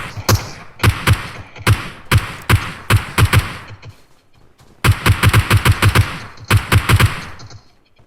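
Bursts of gunfire in PUBG on the Vikendi map, with loud rhythmic volleys of rapid shots, a pause near the middle, then another dense string of fire.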